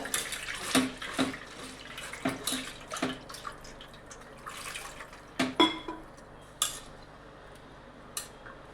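Water pours and splashes in repeated bursts as flattened rice is rinsed, with light clinks of metal on a container between the pours.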